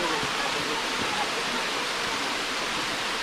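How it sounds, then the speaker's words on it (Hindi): Waterfall at Amboli Ghat, a steady broadband roar of falling water that stays dense and unbroken, close and loud throughout. "ऊपर से ये झरना नीचे तक आ रहा है,"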